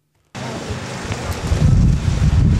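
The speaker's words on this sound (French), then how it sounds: "Un peu de vent" Outdoor wind at an exhibitors' fair gusts across the microphone in a steady broadband rush after a brief silent start, growing stronger and lower toward the end, with no talking.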